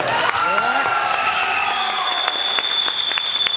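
An audience at a celebration of the Bhojpuri film Kashi Amarnath claps and cheers, a dense wash of crowd applause under a sustained high tone.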